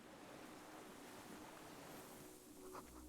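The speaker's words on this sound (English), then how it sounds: "Water rush is low, far down below." Distant, muffled rush of water far below in the Disco Elysium video game, a steady low wash with wind-like noise that holds at an even level throughout, with no voices.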